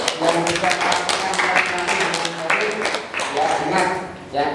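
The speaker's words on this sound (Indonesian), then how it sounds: "Sekali lagi tepuk tangan untuk kelompok 1" Classroom applause for a student group, dense scattered clapping that carries through the whole stretch, with voices talking over it.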